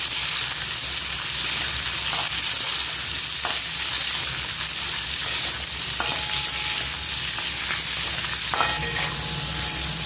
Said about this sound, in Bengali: দিয়ে দিচ্ছি টুকরো করা পেঁয়াজ দিয়ে দিচ্ছি টুকরো করা টমেটো সবগুলো একসঙ্গে ভালো করে ভেজে নিচ্ছি